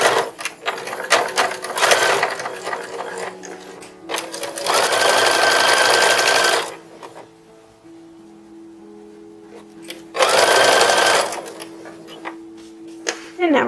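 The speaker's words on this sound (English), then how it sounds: "And now we're going to stitch this down." A sewing machine stitches down the neckline of a 1910s-1920s style infant dress in two loud, steady bursts of running, separated by quieter pauses with faint handling sounds.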